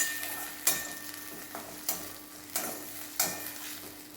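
Chopped medium tomatoes sautéing with onions in a pan over a low flame for veg matka biryani, a soft steady sizzle broken by several sharp scrapes and stirs of a utensil against the pan.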